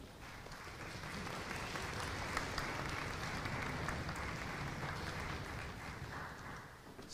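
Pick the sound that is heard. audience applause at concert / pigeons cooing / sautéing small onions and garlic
audience applause at concert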